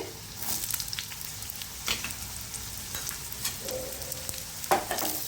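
Chopped carrots stirred into softened sautéed onions in a pan for tricolour vegetable pulao, a steady low sizzle broken by a few scraping spoon strokes, close and alone.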